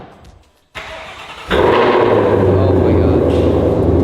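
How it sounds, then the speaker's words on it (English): A 2005 Ford GT's engine cranks and fires into a loud, deep idle that swells and holds steady at close range, with brief exclamations from people nearby. "It's been so long, I forgot what this car sounds like."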